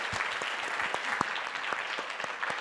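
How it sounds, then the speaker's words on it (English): Audience applause fills a lecture hall after a performance studies talk by Dr. Richard Schechner at Texas A&M, a steady, dense clapping from many hands that holds at an even level throughout. "Let's give a round of applause for Dr. Richard Schechner."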